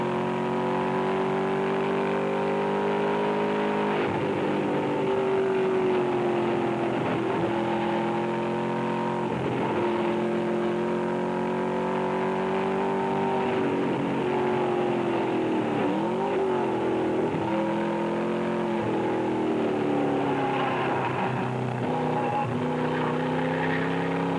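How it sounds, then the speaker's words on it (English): Race cars drive on the Riverside International Raceway track, with a loud, sustained engine drone that rises and falls as the cars shift and accelerate. No voices are heard over the engines for the whole stretch. "to show you the performance racing drivers get with champion spark plugs, here we go on the track at Riverside International Raceway"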